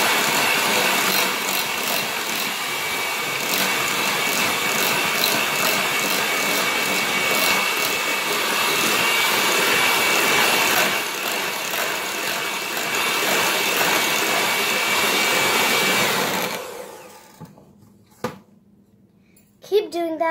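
An electric mixer whirs steadily through vanilla frosting made with confectioners' sugar, a loud continuous motor drone close by that cuts off near the end, followed by a few faint knocks.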